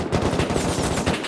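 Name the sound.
gunfire at players in the video game Rust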